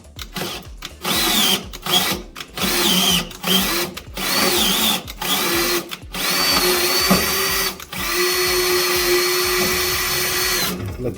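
A power drill drives a tap to cut an M6 thread in a bracket during rear brake line work on a Datsun Z. Close, loud whirring comes in short repeated bursts, then settles into a longer steady run, with no talking.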